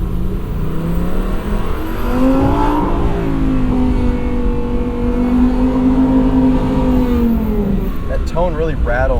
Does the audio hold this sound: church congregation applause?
no